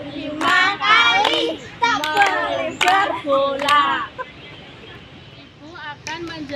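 Children in a classroom exercise clap their hands right and left, a handful of sharp, separate claps mixed in with chanting young voices.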